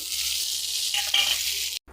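Garlic, curry leaves and dried red chillies fry in hot oil for a chutney, giving a steady loud sizzle with a brief sharper crackle near the middle before the sound cuts off abruptly.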